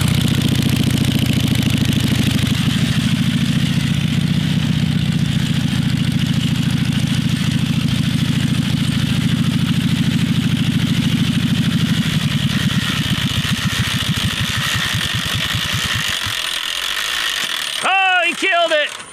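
A 1936 Harley-Davidson VL three-speed flathead motorcycle engine runs loud and close with a rough, lumpy idle. It then stalls and dies, and a voice follows at the end.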